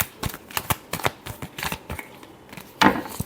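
Tarot cards are shuffled by hand in quick, papery riffles and flicks, a run of close, sharp bursts with a stronger flurry near the end.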